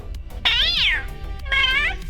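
A cat gives two clear, close meows, the first longer and rising then falling, the second shorter after a brief pause, over a low background hum.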